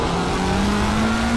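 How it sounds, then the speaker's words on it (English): McLaren GT3 race car in a racing game at Silverstone, its engine droning loud and steady with pitch climbing gradually as it accelerates, alone without talk. "You hear the sound of McLaren here, this very sexy sound"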